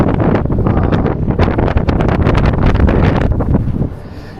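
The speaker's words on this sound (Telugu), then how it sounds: "అమ్మో ఇంత గాలి వస్తుంది" Strong wind buffets the microphone on the open deck of the Royal Yacht Britannia in Edinburgh, a loud, steady roar with gusty surges that eases slightly near the end.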